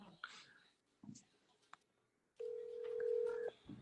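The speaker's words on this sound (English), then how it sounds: "let me call you on the phone" A telephone call is dialed, with a few scattered handling clicks followed by a steady, fairly loud tone of about a second, then faint background sounds.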